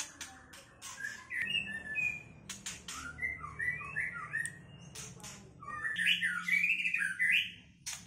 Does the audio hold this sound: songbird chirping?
yes